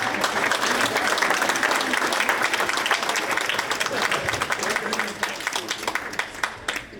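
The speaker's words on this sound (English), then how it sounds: "Can I get a round of applause for that?" A comedy club crowd gives a round of applause, loud, dense clapping that gradually thins into scattered individual claps over about seven seconds, with faint voices underneath.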